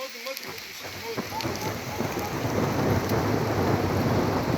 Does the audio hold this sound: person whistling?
no